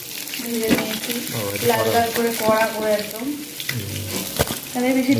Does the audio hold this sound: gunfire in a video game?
no